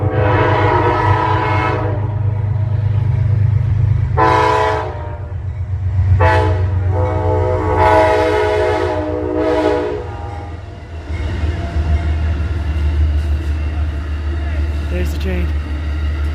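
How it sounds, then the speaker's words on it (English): A train rumbles steadily nearby with a low, heavy drone while its horn blasts several times in long and short bursts; a person talks over it. "Oh, and another train. It's train time."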